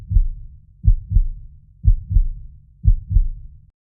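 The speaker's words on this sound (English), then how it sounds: "My heartbeat grew louder, thudding like footsteps on hollow wood." Heartbeat sound effect for a horror story: paired low, thudding beats repeating about once a second, loud and close, with no other sound around them.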